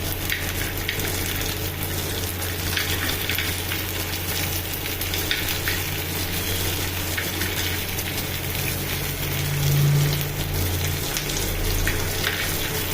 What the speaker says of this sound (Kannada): ಮೆಣಸಿನ್ಕಾಯಿ ಹುರಿದ್ಮೇಲೆ ಶೇಂಗಾ, ನಮಗೆ ಎಷ್ಟು ಶೇಂಗಾ ಬೇಕೋ ಅಷ್ಟು ಶೇಂಗಾವನ್ನು ಹಾಕಬೇಕು